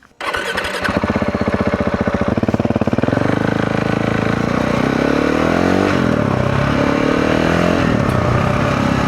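A KTM 690 Enduro R single-cylinder motorcycle starts and pulls away on a test ride, its engine loud and close, revving up through rising gear pulls with a steady throbbing note.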